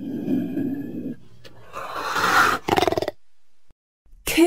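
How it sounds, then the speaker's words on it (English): Low, rough growl of a cougar with breathy, grunting texture, a few seconds long and fairly close, then a short pulsing snarl before a brief pause. "cougar."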